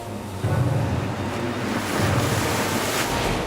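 Storm winds and heavy waves on the North Sea, a loud gusting roar with surging water swells and wind buffeting, rising in two broad surges.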